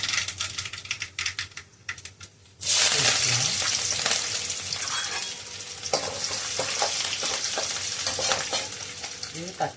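Onion, garlic and curry leaves drop into hot oil in a home kitchen. Quiet clicks and scraping give way to a sudden loud sizzle that keeps crackling with rapid pops and stirring.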